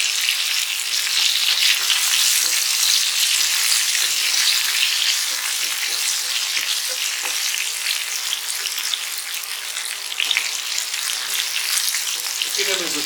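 Curry leaves and garlic fry in hot oil for a tempering, giving a loud, steady, close sizzle and crackle with occasional stirring, and no voices over it.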